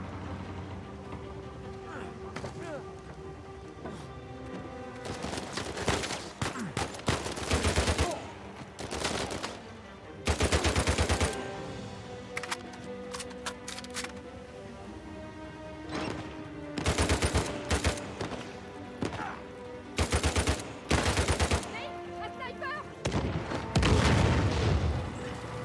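Gunfire and explosions in the Uncharted 4: A Thief's End video game, with sporadic bursts of shooting and booms recurring every few seconds at moderate loudness under game music and excited talk.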